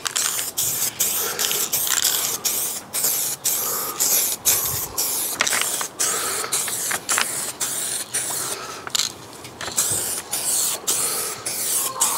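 Spray can applying another coat of paint to the raised rear beam of a Fiat 500C, rapid short hissing bursts repeated in a steady rhythm, close and fairly loud.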